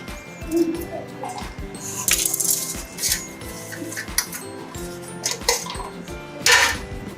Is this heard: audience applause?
no